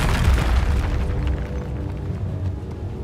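A Confringo spell blast in Hogwarts Legacy, a loud booming explosion with a sharp onset that rolls into a low rumbling tail.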